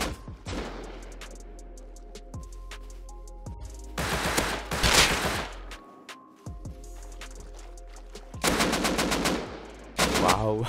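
AK rifles fire in the survival game Rust in several loud, rapid automatic bursts separated by short pauses, some sharp and close, others a bit softer, with a ringing tail after each volley.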